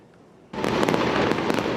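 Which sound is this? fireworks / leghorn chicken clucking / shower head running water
fireworks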